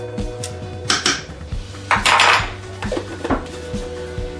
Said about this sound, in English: I'm going to mix that together.